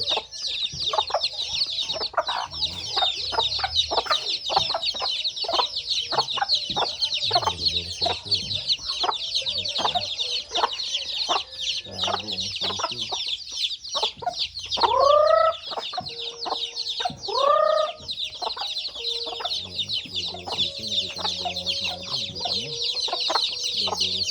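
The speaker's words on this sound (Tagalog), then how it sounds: "So dalawang inahin po ito. Ayan yung mga sisiw." Hens clucking steadily with chicks peeping in a constant high chorus, a couple of louder squawking calls standing out midway.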